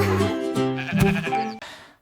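A sheep bleats in a nursery rhyme song, a few wavering, tonal bleats in quick succession, loud and close, ending in a fading tail.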